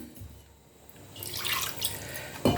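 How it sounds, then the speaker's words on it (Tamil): Water splashes and pours into a rinsed mixer jar for a moment, with a clattering knock at the end. "மிக்ஸி கழுகி தண்ணியை ஊற்றிடுவோம்."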